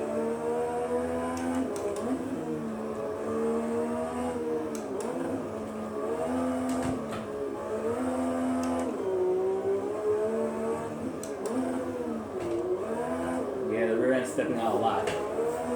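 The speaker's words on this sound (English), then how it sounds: "I can give it gas and keep that rear sliding, like a 4-wheel drift." Porsche 991 GT3 race car at VIR with a steady engine drone and rising, falling revs through corners as the rear slides, running continuously under someone talking throughout.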